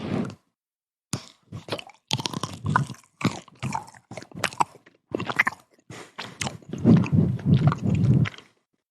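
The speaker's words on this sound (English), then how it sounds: "These chewing sounds are very loud." Loud, close chewing and crunching of a chocolate ganache dessert with small blueberry bits, in irregular wet bursts with short pauses and no talking.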